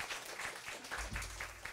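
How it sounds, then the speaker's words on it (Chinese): An audience claps after a talk on functional programming for front-end web development, a brief, fairly quiet burst of applause from a seated room. "那我们就掌声谢谢"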